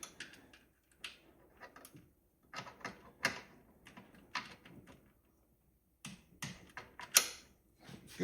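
A socket wrench on a swivel extension turns a bolt on an LS1 engine, giving bursts of quick ratcheting clicks separated by short pauses, heard close with no talk.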